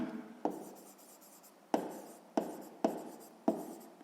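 A pen writes on paper during a sixth-grade maths exercise: soft, steady scratching broken by several sharper strokes at irregular intervals, quiet and close, with no talking.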